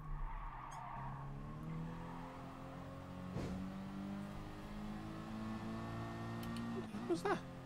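Racing cars in the GT Sport video game colliding amid steady engine drone and skidding tyres, with a sharp impact burst near the middle and another clattering crash toward the end.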